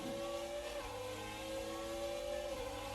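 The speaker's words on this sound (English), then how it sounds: "I hear some of those V10 cars coming down start-finish behind us" Racing cars with V10 engines in F1 2019, classic cars at Interlagos, drone steadily down the start-finish straight, a sustained engine whine holding a high tone under a constant roar, with no voices.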